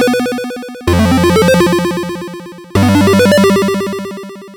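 An AAS Multiphonics CV-1 synth plays its "One Up" sound-effect preset: two bright, rapidly stepping arpeggiated chimes, each swelling in and fading over about two seconds, with no talking.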